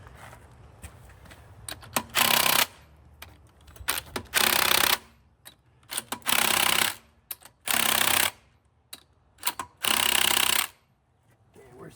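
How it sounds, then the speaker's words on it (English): A car wheel with no lug nuts clacks loose while driving, giving loud rapid rattling bursts that come in repeated waves with quieter gaps between them. "seen the wheel flopping around, making its own direction. Clack, clack, clack, clack, clack, clack, clack. It makes its own special sound"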